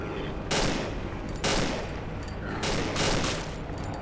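Rapid gunfire bursts in a video game, three or four loud sustained volleys emptying a magazine over a steady game background.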